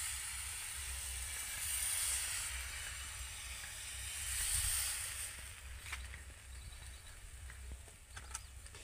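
Patishapta batter sizzles on a hot pan over low heat. A soft, steady hiss rises and falls gently, with a few faint clicks near the end.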